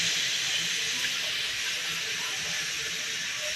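Milk poured into a hot wok for sabudana kheer gives a steady, bright hiss and sizzle that holds evenly throughout, close and alone with no talk.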